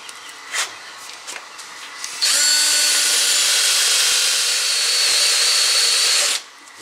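A power tool grinds rust off the bracket of a 2005 Land Rover LR3 front brake, starting after a few light knocks and then whirring loud and steady at close range for about four seconds before cutting off.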